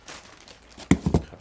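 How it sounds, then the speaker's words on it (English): Packing tape being torn off a cardboard speaker box, a few quick crackling rips in a short burst after a quiet start, close and fairly loud. "Oh, there's yet more tape."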